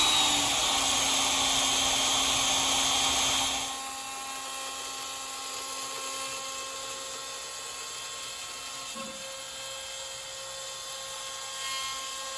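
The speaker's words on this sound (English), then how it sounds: "So we're going to go ahead and turn on the spindle now." A CNC router spindle carves a text sign, a steady high-pitched whine with a drilling edge that is loud at first, then drops to a quieter, constant level and keeps running alone.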